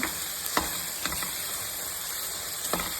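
Vangi bath ingredients fry in hot oil with a constant crackling hiss, and a few sharp scrapes and clicks come from stirring; no one speaks.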